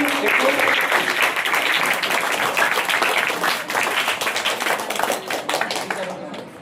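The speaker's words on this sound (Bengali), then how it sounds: "আশিফ শেখের জন্য জোরে হাততালি" An audience at a school prize-giving for hifz students claps for a third-place winner, a dense, sustained burst of many hands that thins out at the end, with a voice speaking over it.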